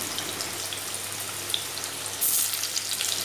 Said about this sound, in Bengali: এবারে আলুটা ভেজে নেওয়া হচ্ছে।